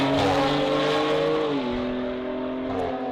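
Audi and BMW sports compact cars in an Australian drag racing event, engines roaring loudly and continuously with a steady high drone whose pitch drops partway through, heard alone without talk.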